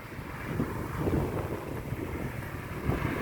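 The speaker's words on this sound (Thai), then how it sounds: "ลมแรงมากเลย" Strong wind gusts at Chong Khao Khat mountain pass in Mukdahan, a loud, continuous buffeting roar hitting the microphone with surging peaks and no voices.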